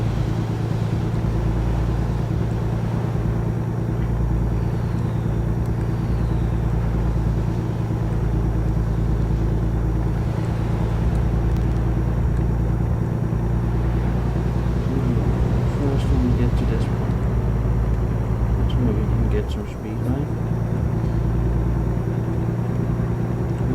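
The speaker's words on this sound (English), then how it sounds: "even though I push for every bit of power this truck has, it's not going to get up to speed" A heavy truck engine labors uphill in American Truck Simulator, hauling a bulldozer on a long trip, a loud steady low rumble and drone that persists throughout with little change, with speech faintly present under it.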